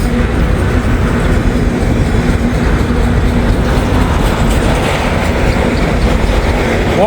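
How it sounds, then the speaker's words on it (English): A mixed manifest freight train rolls steadily past, close and loud, with a constant low rumble and a faint rhythmic clatter of wheels on rails throughout, and no voices. "I don't know what kind of train we got here. Just know it's a mixed manifest."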